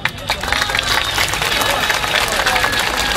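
Audience applause for a speaker at a gathering, a dense wash of clapping hands from a crowd that holds steady for a few seconds, with faint murmuring mixed in.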